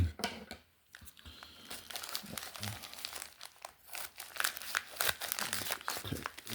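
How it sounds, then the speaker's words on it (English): Crinkly plastic wrapper of a sports card mystery package being torn open up close, a run of sharp crackling rips and crumples with brief pauses, no talking. "Rip this one"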